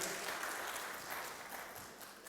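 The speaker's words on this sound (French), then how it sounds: "On peut l'applaudir." Applause from a church congregation after a testimony, a soft, even wash of clapping that lasts the whole moment and fades slightly toward the end.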